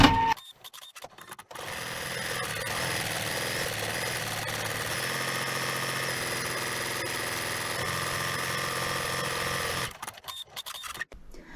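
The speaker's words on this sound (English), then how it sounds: "I should go ahead and do the zigzag stitches." Sewing machine running steadily while stitching zigzag stitches on a romantic crazy quilt, a continuous close mechanical whir lasting about eight seconds, with brief handling noises at the start and end.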